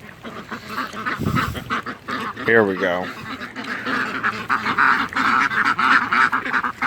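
Ducks used for weed and pest control in a muscadine grape planting quack and honk loudly in a noisy cluster, with a burst of rapid nasal quacks midway, while a person speaks briefly over the din.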